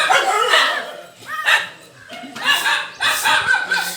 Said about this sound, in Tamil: இந்த பெரிய நாய் வந்துச்சு கீழே.